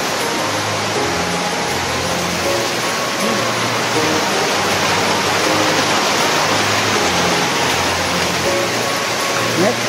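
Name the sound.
water dripping through leaking roof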